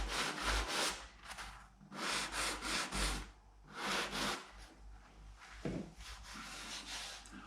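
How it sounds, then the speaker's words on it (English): Light hand sanding of cured wood filler patching a hole in an internal door, heard as repeated rhythmic scratchy rubbing strokes in bursts, close and fairly quiet, with no talking. "I'm going to get a very light sanding"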